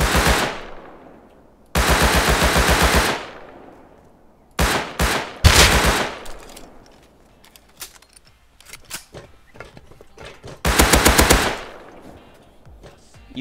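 AK rifle gunfire in the survival game Rust, several loud close bursts of rapid automatic fire separated by quiet gaps, with scattered single shots and clicks between the longer volleys.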